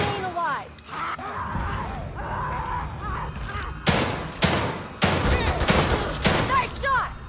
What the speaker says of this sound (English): Keep shooting until they're dead or we run out of ammo